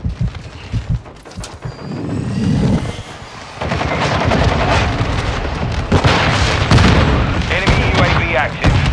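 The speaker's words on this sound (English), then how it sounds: "Our mortar strike is inbound." Heavy gunfire, machine-gun bursts and booming explosions from an incoming mortar strike sound continuously in Call of Duty: Modern Warfare 2, loud and dense, with game voices heard briefly among the blasts.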